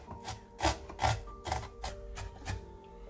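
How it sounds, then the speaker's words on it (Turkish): A knife thinly slicing onions on a cutting board, about eight crisp evenly spaced strokes at a quick, steady pace, close and alone. "İnce ince soğanları kesiyorum."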